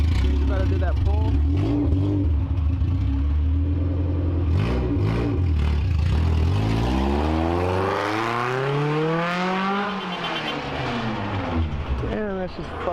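A Toyota Tercel fitted with newly installed headers revs loudly and close by, the engine note climbing and falling in sweeping pitch changes over several pulls, with voices talking over parts of it.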